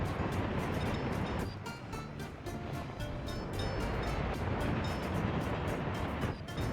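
Trains run on rails in the Soviet-era city-building game Workers and Resources: Soviet Republic, giving a dense, continuous rumble with rhythmic clacks that swells and dips slightly, with no talking.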